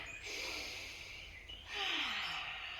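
A long, deep cleansing exhale during a yoga flow, breathy and airy, drawn out for a couple of seconds and fairly soft, with no talking over it.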